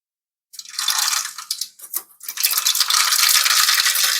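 Loud sizzling crackle of hot oil tempering spices bursts out suddenly after a moment of silence, dips briefly, then settles into a steady hissing spatter close by.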